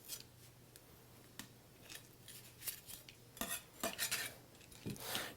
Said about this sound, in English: And you can just cut out the ribs easily.